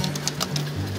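Soft cooing of a teddy pigeon, low and rounded, repeating a few times close by over a steady low hum.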